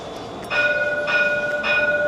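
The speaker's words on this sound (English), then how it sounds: "we just came out of the tram" A Dubai tram sounds close by as a steady electric hum with several high sustained whine tones, swelling in three brief surges across the clip with no talk.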